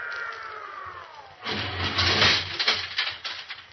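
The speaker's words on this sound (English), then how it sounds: "Can't you hear the lift whining as its two latest arrivals, the husband American, the wife English, go swaying up to a bumpy stop?" A lift rises with a mechanical whine and rumble in a radio drama, carrying an American husband and English wife; a falling whine fades into a louder, rumbling, swaying rush that shudders irregularly toward a stop.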